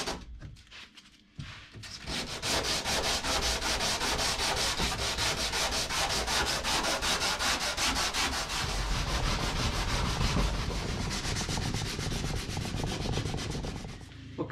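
Steady, loud sanding with 80 grit sandpaper on a wooden boat hull, continuous close rasping friction that runs without pause for over ten seconds.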